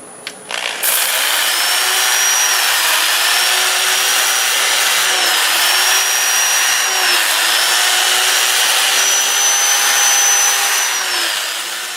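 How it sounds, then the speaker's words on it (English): Steady whirring of a lathe spinning cherry wood at about 400 RPM with the gritty rub of sandpaper, a continuous hum with slight pitch wobbles, close and loud, no talking. "I'm going to sand and reverse at about 400 RPM"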